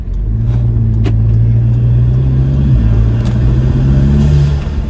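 An Audi A3 with a new intake drones close by as the engine revs and holds steady, a loud low rumble with a slight pitch dip midway and no talking.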